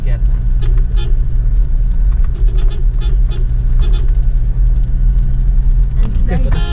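Cars, a multi-cab and trucks rolling along a rainy downhill road to a fiesta, a steady low engine rumble that swells and fades as vehicles pass close by, with voices talking over the traffic throughout.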